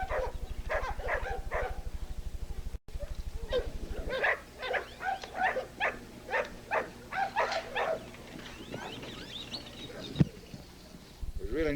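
An American Bulldog in protection training barks and growls in a yard during a bite struggle with a decoy wielding a pipe, a rapid series of loud, rhythmic barks and snarls with someone talking over them.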